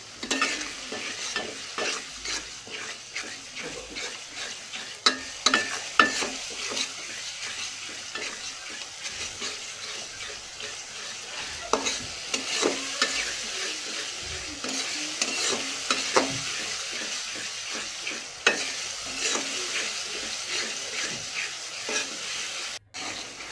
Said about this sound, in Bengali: কষানো হয়ে গেলে আমি সেখানে চিংড়ি মাছগুলো পরিষ্কার করে সেখানে দিয়েছি। একটু নেড়ে ছেড়ে নিব।